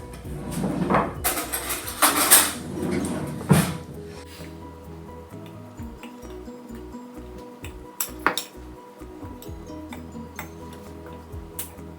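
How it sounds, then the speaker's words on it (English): Cocoa powder and flour whisked in a bowl, giving a run of close metallic clinks and scrapes at first, then lighter, rapid ticking taps against the bowl, with no talking. "And now let's just whisk that up."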